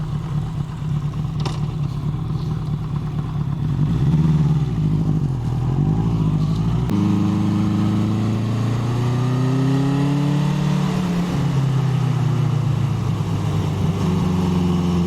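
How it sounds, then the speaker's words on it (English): A 1981 Honda CB750K motorcycle cruising along the road, its engine a steady continuous drone with shifting pitch as it changes speed, loud and close throughout, with wind noise and no talking. "this bike is great at cruising, really comfortable"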